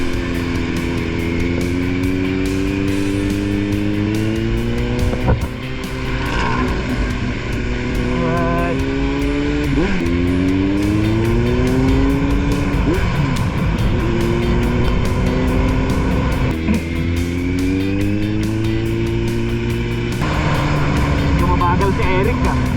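A motorcycle accelerates and overtakes on a road ride, its engine note rising and falling through repeated gear pulls, loud and close, with wind noise throughout.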